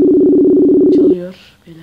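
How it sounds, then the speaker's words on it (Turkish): A Messenger call ringing tone pulses steadily and loud through a phone speaker, then cuts off abruptly as voices break in near the end. "Çalıyor beyler."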